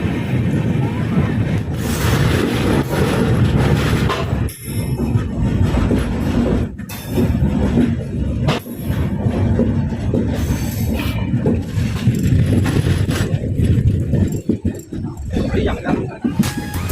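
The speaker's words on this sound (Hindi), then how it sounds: "अपनी train 2924 Ajmer special Bharatpur junction से रवाना हो गई है।" Diesel-hauled 02924 Ajmer Special passenger train pulling out of Bharatpur Junction, a loud continuous rumble of wheels and carriages with clanks, rattles and brief squeals, heard close from on board.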